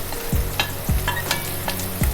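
Spice paste with tomato being stir-fried in a pan for an oily koi fish curry: repeated spatula scrapes in a regular rhythm over a steady close sizzle.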